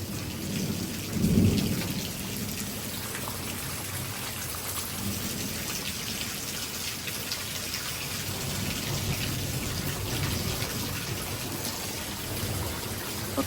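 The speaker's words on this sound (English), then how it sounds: "The rain's picking up." Heavy downpour drums steadily from start to finish during a severe thunderstorm with gusty wind, and a deep rumble of close thunder swells early on beneath the constant roar of the rain.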